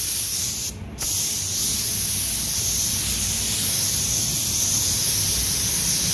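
Spray gun laying clear coat varnish onto a car bumper: a loud, steady, close hiss runs almost unbroken, with one brief dip near the start, and no talking.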